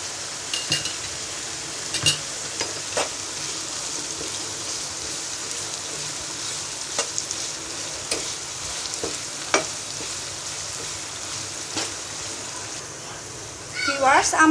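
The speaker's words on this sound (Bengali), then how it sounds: "একটি ফ্রাই প্যানে আমরা তেল গরম করে পেঁয়াজ কুচি দিয়ে দিব" Chopped onions fry in hot oil in a frying pan, being made into crisp fried onions for Bengali kacchi biryani. A steady close sizzle continues throughout, with occasional clinks of a spatula against the pan.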